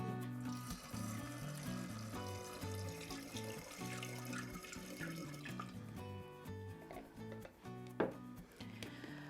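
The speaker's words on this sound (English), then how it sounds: "So I've put enough water in, and it's just below the neck of the bottle." Water poured into a bottle while making mead, a running, gurgling pour heard beneath strong tonal music that dominates throughout, with a sharp knock near the end.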